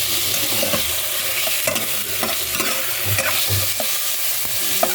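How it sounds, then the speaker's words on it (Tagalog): Chicken pieces for tinola cook in a pot, giving a steady close sizzle with stirring clatter and scraping throughout and no talking. "Ilagay ko na yung chicken guys."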